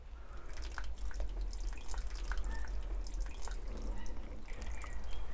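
Seedlings being watered, with irregular patters and drips of water falling close by over a steady low rumble, continuing throughout.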